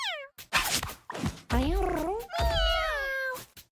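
A series of drawn-out cat meows from the video game Mewgenics, three or four in a row with short gaps, loud and close with a synthetic game-like quality.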